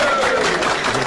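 Crowd applause for a senator at a Haitian political gathering, a brief dense burst of clapping and crowd noise, loud and close.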